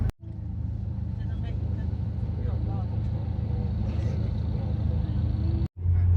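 Steady low engine drone and road rumble from inside an air-conditioned tour bus heading to Krabi, Thailand, continuous throughout with faint voices under the hum, cut off briefly near the end.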